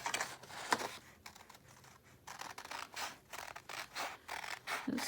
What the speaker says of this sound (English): I'm using my little scissors tonight